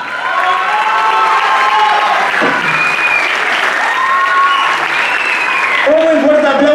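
At a choreographic dance show, an audience cheers and applauds a dancer. Continuous clapping comes with whoops and shouted voices, including children's, rising above the steady applause.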